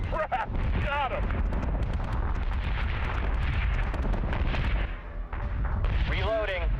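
Ship guns in the Battlestar Galactica: Deadlock video game fire in dense, booming volleys with rumbling blasts throughout, while voices talk over the battle.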